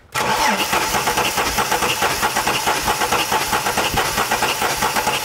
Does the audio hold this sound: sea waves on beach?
no